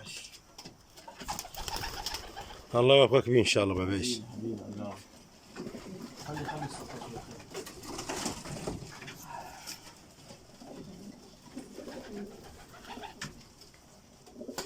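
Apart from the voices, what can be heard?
pigeon cooing in a loft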